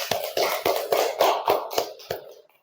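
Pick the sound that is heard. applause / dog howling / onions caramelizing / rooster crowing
applause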